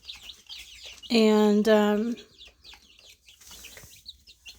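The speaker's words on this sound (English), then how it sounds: "1-week-old silky chicken." One-week-old silkie chicks call in a brooder box with a loud, sustained, wavering peep of about a second, followed by quieter chirps and faint background sounds.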